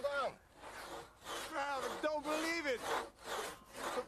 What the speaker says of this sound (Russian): Мне не нравится эта двуручная пила.